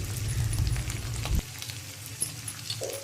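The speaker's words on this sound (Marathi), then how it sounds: "आता हा ठेचा छान खरपूस थोडंसं भाजून घ्यायचा एकदम जाळायचा नाही" Ground fenugreek thecha frying in very hot oil, a dense sizzling hiss that is loud for the first second and a half, then drops to a quieter steady crackle.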